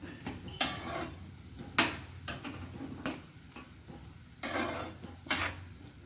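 Soya chunks stirred in a cooking pan with a spoon, giving sharp scraping clatters at irregular intervals over a low background hum, close and moderately loud with no talking.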